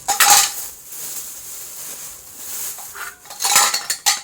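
Metal pooja vessels and lamps being washed clink and clatter close by in bursts, with quieter rattling and handling between the louder clashes.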